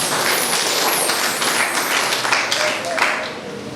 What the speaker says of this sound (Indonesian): Tepuk tangan untuk kemuliaan bagi nama Tuhan.